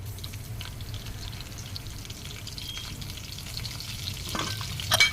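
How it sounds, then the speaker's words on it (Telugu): Dried red chillies, mustard seeds and cumin tempering in hot oil for a lentil dish, a close, continuous sizzling hiss with light stirring scrapes and a few sharper pops near the end, no voices. "పచ్చనిపప్పు తాలింపుకి ఎండుమిర్చి రెండు వేసాను ఆవాలు జీలకర్ర వేసాను"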